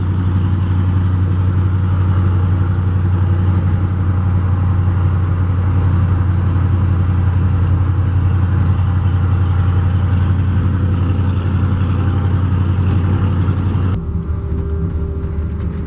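Steady, loud drone of a 5-speed swapped Ford F-100 pickup engine cruising at around 1,300 RPM and about 50 mph, a constant low rumble with no shifts until a slight drop near the end.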